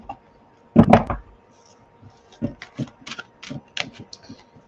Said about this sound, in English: Give them a good shuffle